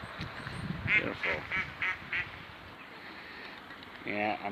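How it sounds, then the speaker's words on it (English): Tame ducks quack loudly and close by in short bursts on a village walk in Whittington, Shropshire, with a few honking calls near the end and a person talking. "I'm getting attacked by the ducks"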